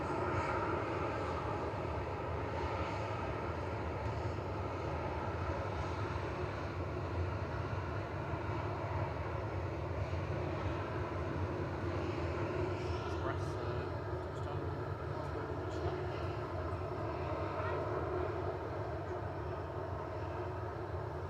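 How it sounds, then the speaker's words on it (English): A Ryanair Boeing 737-800 takes off at Manchester Airport, its jet engines giving a sustained, broad roar that holds steady at a moderate distance throughout. "Ryanair's 9HQFN is taking flight 3232 to Malaga next"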